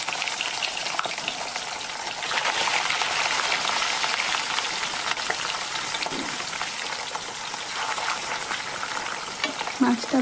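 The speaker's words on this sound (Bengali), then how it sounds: "মাছটা ভাজা হচ্ছে।" Katla fish pieces fry in hot oil in a kadai, producing a steady, dense sizzle and crackle with occasional pops, close and continuous without speech.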